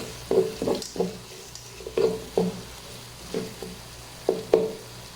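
Chickpeas frying in a pot are stirred in a steady series of scraping clatters, around a dozen strokes spaced irregularly over a soft, continuous sizzle, close by with no talking.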